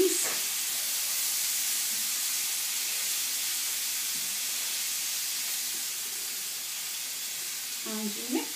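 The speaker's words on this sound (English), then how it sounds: "And it makes it sort of sizzle" Canned beans with water sizzle in a hot pan as a steady bright hiss throughout, with a few soft clinks of stirring near the start and end.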